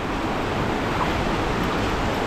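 Strong water current rushes steadily outdoors, a continuous broad wash of flowing water with wind buffeting, no voices.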